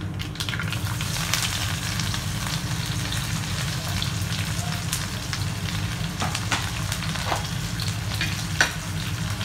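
Sliced onion and chopped green chillies fry in a pan with oil, a steady close sizzle with light stirring scrapes running through it, no talk.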